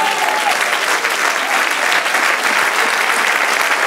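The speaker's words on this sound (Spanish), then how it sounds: "Denle un aplauso al Señor." A church congregation bursts into steady, dense applause during a Spanish-language evening service, the clapping loud and continuous throughout with no talk over it.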